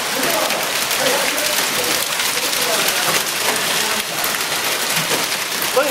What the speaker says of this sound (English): That's a hailstorm, dude.